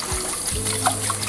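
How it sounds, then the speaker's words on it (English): Cold tap water running over drained, cooked noodles being rinsed of starch in a sink, a steady close splashing trickle with faint tonal clinks. "I'm gonna drain it and I'm gonna rinse it in cold water, just to rinse some of that starch off"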